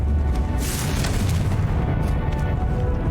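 A Confringo spell blast in the game Hogwarts Legacy sounds as a deep, rumbling boom with a brief bright burst near the start, followed by a heavy low roar that sustains to the end.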